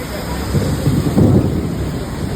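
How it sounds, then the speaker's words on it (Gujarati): Heavy monsoon rain pours down in Halol with rolling thunder, a loud continuous wash of rain with deep rumbling swells close by. "વીજળીના કડાકા ને ભડાકા"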